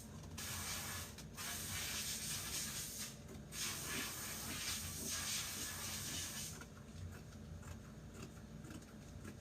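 Scissors cut through dress fabric as part of sewing a dress from scratch, giving a close, steady, hissy shearing sound that runs in long strokes with brief pauses between cuts.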